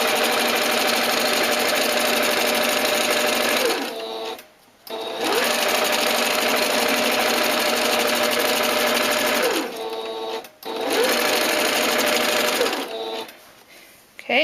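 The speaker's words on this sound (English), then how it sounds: "Notice as I sew the straight line, I have my hand to the left of the presser foot" A sewing machine stitches a straight line of fabric in long, loud, steady runs of rapid mechanical whirring, stopping briefly twice between runs.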